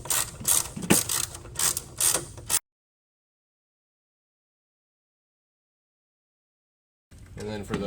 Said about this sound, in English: There are 3 10mm nuts holding that on. We'll go and loosen those up.